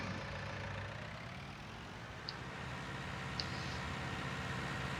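A potato harvester in Farming Simulator 19 runs with a steady, low engine drone while self-unloading, a constant idling hum with a couple of faint ticks and no talk.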